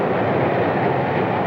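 A New York Central diesel freight train from the 1950s rolls past with a dense, steady roar and rumble of engines and cars that neither rises nor fades, with no voices.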